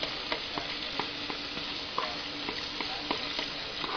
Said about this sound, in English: Drop it in. Let it simmer on low so everything gets soft.